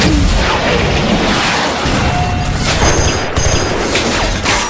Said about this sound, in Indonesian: akhirnya melepaskan satu roket sampai mengarah ke pintu bunker tersebut yang membuat kunci gemboknya menjadi hancur